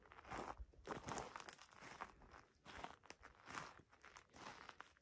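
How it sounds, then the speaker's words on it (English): Footsteps in moccasins crunch across a dry forest floor, a steady series of close crackling steps with brief pauses between them and no talk. "Even with moccasins on, you're still going to crunch."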